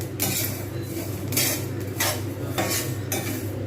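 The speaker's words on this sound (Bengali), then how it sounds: "সুন্দরভাবে ভাজতে গেলে অপেক্ষা করতে হবে এবং এইভাবে" Rice dry-frying in a pan for sweet laddus is stirred with a metal spoon, giving a rhythmic series of scraping strokes roughly every half second, close and clear with no talking.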